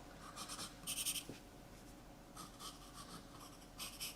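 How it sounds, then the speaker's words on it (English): A scratchy pencil sketches on paper in short, irregular bursts of rasping strokes with quiet pauses between them. The sound is close and faint, with no talking. "I'm using a slightly scratchier pencil today."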